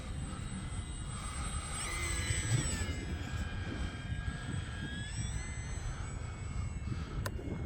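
An E-flite UMX Turbo Timber Evolution model airplane whines overhead, its electric motor pitch rising and falling as it passes at a moderate distance over outdoor wind noise.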